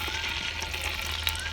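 Chicken pieces, including scored leg pieces, frying steadily in oil in a karahi for Afghan chicken karahi, a continuous close, bright sizzle with no voices.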